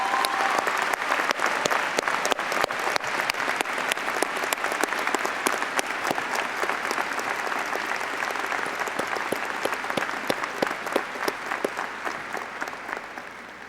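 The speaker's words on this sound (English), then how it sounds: "Deanna, all of the applause you're about to hear is just for you." Audience applause fills a high school graduation ceremony in 2003, a dense, sustained wash of many hands clapping loud and close, holding steady for over thirteen seconds before easing slightly at the end.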